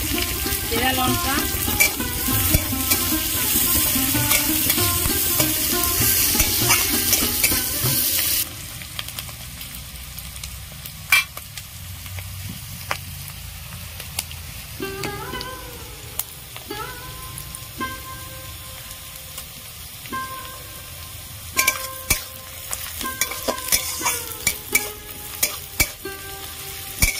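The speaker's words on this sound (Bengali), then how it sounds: "পেঁয়াজ, রসুন, কাঁচা লঙ্কা আমি ভালো করে ভাজা ভাজা করে নিয়েছি।" Onion, chopped garlic and slit green chillies frying in a wok, a loud sizzle with stirring that drops to quieter crackling and scattered utensil clinks and scrapes.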